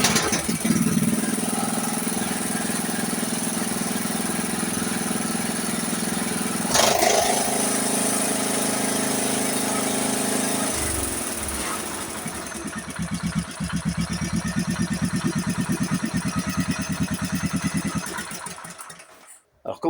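McCulloch M11597 ride-on mower engine cranks with the choke set and catches, settling into a loud, steady running drone that changes pitch partway through before cutting off near the end.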